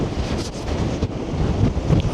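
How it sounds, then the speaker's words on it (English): Strong wind gusts buffet the microphone on Blackpool seafront during a storm with 70mph gusts, while large waves crash against the shoreline, making a loud, continuous roar with rumbling surges. "it's certainly very, very windy"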